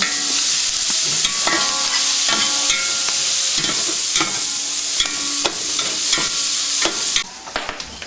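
Onions frying in oil for a massalé, a loud close sizzle with repeated stirring scrapes and clanks of a spoon against the pot, easing off near the end.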